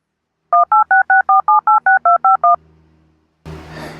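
A telephone keypad dials out with a rapid, even run of about a dozen loud touch tones, followed by a faint low ringing hum and then a burst of noisy line sound as the call connects.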